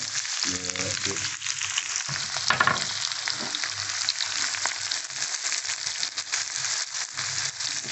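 Onions hit a hot wok on an induction hob and sizzle loudly and steadily, a dense crackling hiss with brief clatter of stirring near the start, continuing unbroken throughout.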